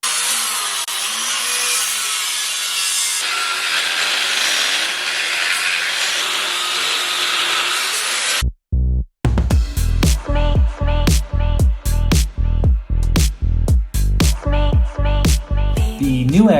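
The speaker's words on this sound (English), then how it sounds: "So I typically just like to use a cutoff wheel" A cutoff wheel shrieks through a steel 14-bolt axle housing with a continuous loud grinding hiss for several seconds, then stops; a different pulsing, rhythmic machine sound follows.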